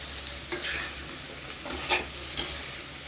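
Jackfruit masala fry with cumin powder and spice mix gets stirred in a pan over a soft, constant sizzle. Spoon scrapes come through now and then, fairly quiet and close, with no talking.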